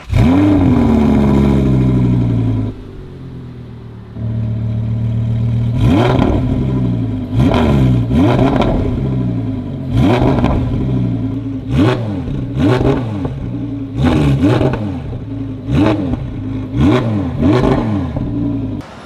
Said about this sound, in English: We got you a catback, full titanium, almost the same exact spec with the valve control. So let me crank it.